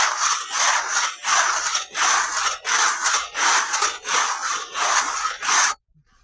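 A tool rasps and scrapes ridges off an aerated concrete block facade wall in steady, repeated gritty strokes, about two per second and up close, ending abruptly.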